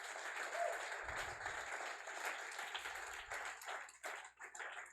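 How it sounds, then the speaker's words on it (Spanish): A church congregation clapping during a sermon, a fairly faint, fast wash of hand claps with some low rumble beneath, the clapping thinning out toward the end. "dele fuerte el aplauso al Señor"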